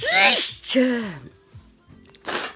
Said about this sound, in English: And that was a sneeze just after eating